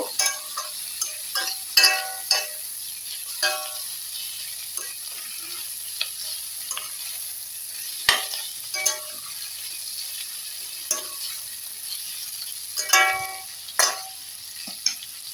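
Ivy gourd pieces, cut lengthwise into quarters, frying in a pan with a steady soft sizzle, broken by sharp scraping and clinking from a stirring spoon at irregular intervals, close up and with no talking.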